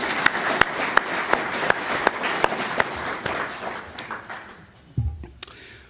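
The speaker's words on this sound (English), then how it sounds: "I'd like to have you all give them a round of applause for putting the money up for this." An audience at a maritime leadership symposium applauds the sponsors, steady clapping with sharp individual claps standing out, fading toward the end with a couple of louder final claps.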